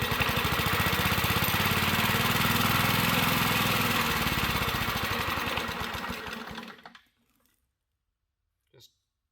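A 1950s Wards lawn mower engine runs loud and steady with a rough, buzzing drone, then sputters and dies out, followed by silence and a brief faint knock near the end.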